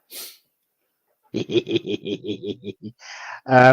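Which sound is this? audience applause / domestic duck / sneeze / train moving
sneeze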